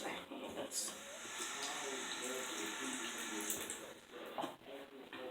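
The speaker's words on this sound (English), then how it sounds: "I'm just gonna wash my hands." Tap water runs steadily into a sink while hands are washed beneath it, a constant close splashing hiss lasting throughout with a few brief louder splashes and no speech.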